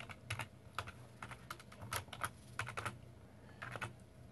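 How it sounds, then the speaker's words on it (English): Computer keyboard typing in quick, uneven bursts of light taps at close range, fairly quiet, with no talking. "Let me type this one thing."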